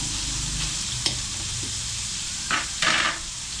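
Pancit noodles sizzle and fry in a pan while being stirred, with a steady hiss broken by a few scraping, clacking stir strokes near the end.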